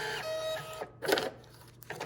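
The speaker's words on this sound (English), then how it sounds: "This printer is going to spit out some tags for the kids." A check-in desk printer whirs and clicks as it prints name tags for children, a short close mechanical burst with a brief pause and a second spurt of feed noise.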